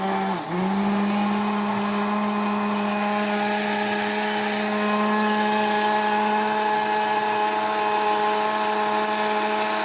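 A blender grinding dried fava beans for Moroccan bissara, a loud steady motor whine with a brief dip near the start, then running continuously and close.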